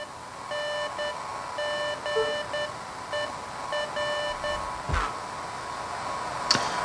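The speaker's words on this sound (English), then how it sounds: "I wonder if that's SOS Morse code." Electronic beeps in the video game Beacon Pines, a signal of short and longer tones grouped like Morse code, repeating steadily at moderate volume, with a couple of brief whooshes near the end.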